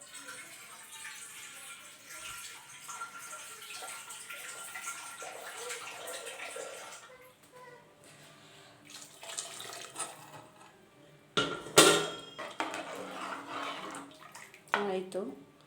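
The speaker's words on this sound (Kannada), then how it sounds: "ಒಂಚೂರು ನೀರು ಹಾಕ್ಕೊಳ್ತೀನಿ" Water pours from a container into a pot of toor dal and vegetable sambar, a steady gushing splash for several seconds, then a short pause and a few louder splashes and clatters near the end.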